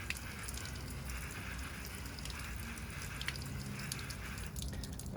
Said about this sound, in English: So I haven't heard the water falling yet,